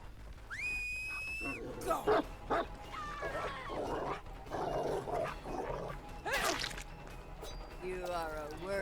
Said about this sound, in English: Where's my dog?